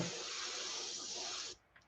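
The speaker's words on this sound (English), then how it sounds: "we're going to spray a little bit of green on the high side here." Green paint sprays onto a fishing lure in one steady hiss lasting about a second and a half, loud and close, then cuts off sharply, leaving a faint tick or two.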